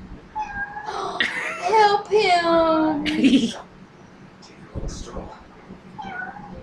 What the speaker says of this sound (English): Oh, it's a kitten!